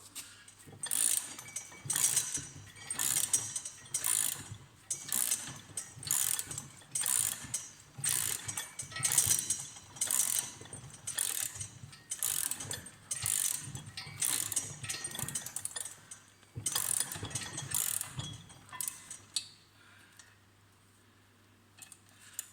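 A press tool forces out the central bolt of a VW/Audi upper control arm, producing a long run of sharp, close ratcheting clicks in steady repeated bursts, loud and mechanical with no talking.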